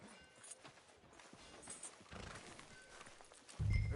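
A horse in Red Dead Redemption 2 clip-clops at a walk, soft rhythmic hoofbeats heard faintly against quiet ambience, with a louder thump at the very end.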